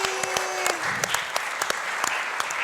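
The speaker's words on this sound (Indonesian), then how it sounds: "Oke, kita kasih tepuk tangan lagi." A crowd at a youth seminar claps, brisk scattered hand claps layered over a fuller roar of applause, close and lively throughout.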